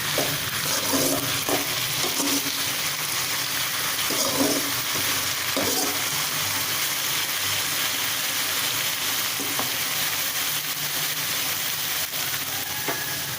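Broad bean poriyal is stir-fried on high flame, a loud continuous sizzle with intermittent scraping and stirring strokes from a spoon in the pan as the water cooks off.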